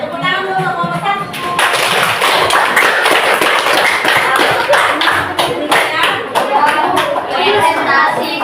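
Classmates clap for the first group after its answers in a classroom, loud, dense clapping that rises abruptly and carries on steadily, with children's chatter mixed underneath.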